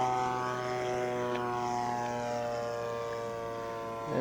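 A Gilmore Red Lion Racer RC plane from Legend Hobby/Seagull Models with a 35cc petrol engine makes a low pass, a steady droning engine tone with strong harmonics, slightly rising in loudness toward the end.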